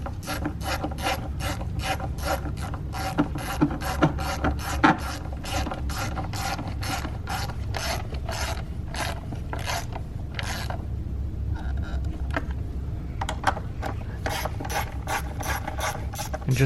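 Ratchet tightening valve cover bolts on a 2013-2020 Ford Fusion engine, a rapid, continuous clicking of the pawl in steady bursts, close and clear, with short pauses between strokes.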